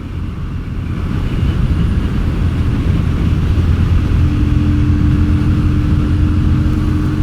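Yamaha Virago XV250 motorcycle engine, fitted with pod filters and freshly carburettor-tuned, running loud and close with a steady low rumbling drone that builds slightly early on and then holds, no talk.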